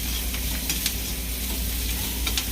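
Oil heats in a pan with a continuous close crackling sizzle and a low steady hum beneath, a few brighter spits breaking through.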